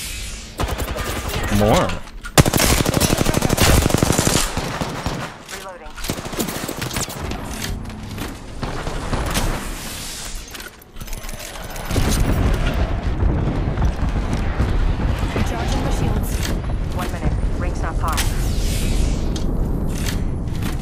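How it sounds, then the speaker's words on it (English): Bots in Apex Legends fire rapid automatic bursts with heavy booming impacts, loud and nearly continuous, while a player talks over the shooting. "Bomb bots are shooting at me."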